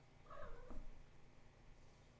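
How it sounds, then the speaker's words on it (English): A pet cat purring and playing nearby, a brief faint low rumble with a soft vocal chirp early on, quiet against a dull background. "In case anybody heard that, that's my cat just messing around."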